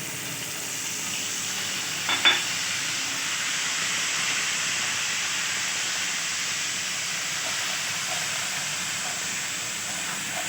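Spice masala with cumin, mustard seeds and nigella seeds sizzling in hot oil for a tomato and garlic chutney, a steady hissing fry with one brief clatter early on and no talking.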